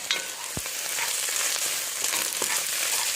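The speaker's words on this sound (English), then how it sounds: "So I'm going to add my garlic. And stir." Garlic hits hot butter in a pan for a French onion soup, giving a steady close sizzle with a few scraping stirs of a utensil across the pan, no voices.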